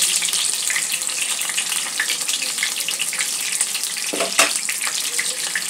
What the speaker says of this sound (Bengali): দুটো তিনটে করে ভেজে নেব।